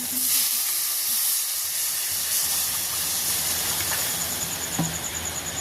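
Spice paste sizzles in hot oil in a wok, a constant frying hiss with a few faint clicks and clatters scattered through it.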